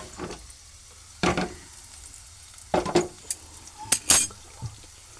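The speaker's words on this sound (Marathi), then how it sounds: "हा पॅन आहे तो आम्ही आता चेंज करतो" A pan of gavar and pumpkin sabzi is lifted off the stove and swapped for another, giving several separate clanks and scrapes of metal cookware against the burner, close and irregular, with quiet gaps between them.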